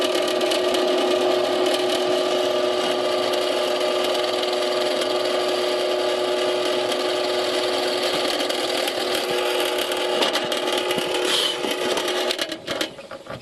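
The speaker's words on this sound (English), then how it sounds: "I'm just going to go ahead and run this drill press and just see what kind of time and workload we can get" A drill press powered from a 12V boost pack bores a 1/2 inch hole through 3/4 inch plywood, a steady whining drone running continuously before tapering off at the end, with no talking.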